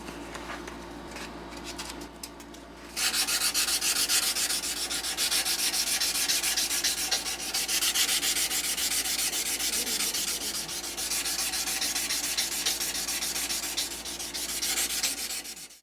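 Knife handle scales sanded by hand with 320 to 600 grit paper, brisk back-and-forth rasping strokes in a steady rhythm, close and continuous after a quieter opening.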